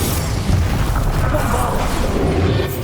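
A Confringo fire spell in Hogwarts Legacy goes off as a loud, close, rumbling blast that rolls on for the whole moment amid combat noise.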